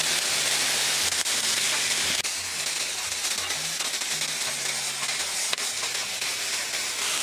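Broccoli sizzles on a Blackstone griddle, heard as a loud, steady hiss that fills the whole stretch, with a low melodic background running underneath and no talking.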